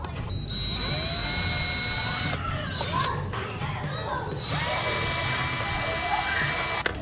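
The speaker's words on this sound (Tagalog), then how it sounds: "Diyan natin siya babarinahan." An electric drill whines steadily up close, boring a mounting hole for a front fender extension on a Yamaha Aerox V3 scooter, while voices talk around it.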